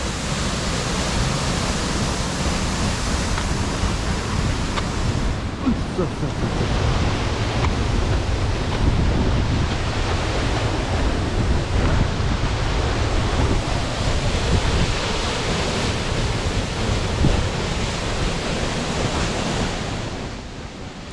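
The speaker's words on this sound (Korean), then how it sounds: "떨어지는 폭포에서 물보라가 생기지 않습니까?" A steady, heavy roar of water falling at Dry Creek Falls in winter fills the scene, dense and unbroken, with wind buffeting faintly underneath.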